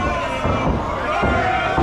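Crowd at a professional wrestling show roaring and cheering as a veteran wrestler tags into a match, a loud, dense wall of voices with a few thuds rising through it.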